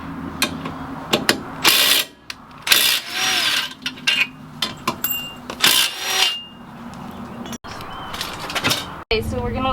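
Crash bar bolts being removed from a Mini Cooper F56 with a ratchet, bursts of rapid clicking ratcheting separated by pauses, close and loud, with a few metallic clanks of tools and parts.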